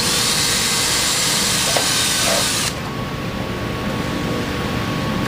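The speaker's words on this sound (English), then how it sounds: "we're just going to match drill into the tunnel" Power drill match-drilling holes through aircraft sheet metal into the tunnel at the boot cowl, a steady loud whine and hiss that cuts off abruptly partway, leaving quieter background noise.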